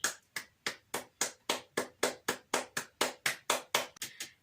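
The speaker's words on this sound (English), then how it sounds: "Let us put our hands together and give a round of applause" A single person claps at a steady, brisk pace, about fourteen sharp even claps close by with no other voices or noise.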